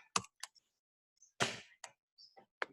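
A computer keyboard clicks sparsely and irregularly in a classroom, with a handful of isolated, fairly faint key taps and a short burst of keystrokes against near silence.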